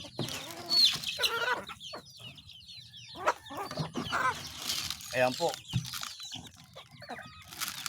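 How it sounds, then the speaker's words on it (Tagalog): Pet chickens cluck and chatter at feeding time, with busy overlapping calls near and clear, and a person speaks briefly over them. "Tuloy natin pagpapakainin natin mga alagang mga manok."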